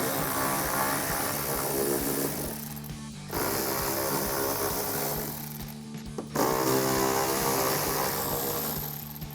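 A 10mm socket on a powered wrench backing out three bolts in a car wheel well: three loud, whirring mechanical bursts of a few seconds each, separated by brief pauses, heard up close.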